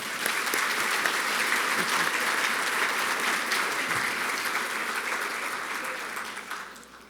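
Audience applause at an evening awards show, a steady dense clapping from a large crowd that holds for several seconds and tapers off toward the end.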